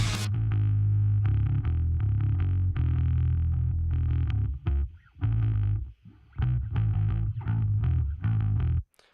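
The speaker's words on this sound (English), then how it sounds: "I wanted to put a little more crunch on that, a little more distortion to maybe add to the flavor" Bass guitar played through a gritty distortion effect gives a loud, heavy, crunchy low tone. The notes are sustained and chugging, with a few brief gaps between phrases, and no voices.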